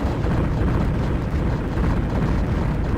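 Spaceship weapons fire in the Escape Velocity Nova space game, a dense rumbling barrage of blasts and bursts running continuously and loud for the whole stretch.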